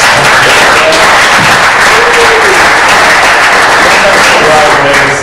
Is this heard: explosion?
no